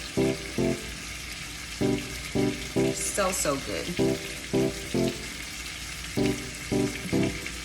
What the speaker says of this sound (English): We're letting them sear, then we're gonna toss these bad boys over.